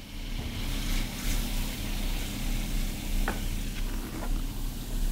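Coolant boils steadily around a BSCCO superconductor sample as it cools toward 77 K, giving a continuous close hiss and sizzling bubble with a few sharper pops scattered through it.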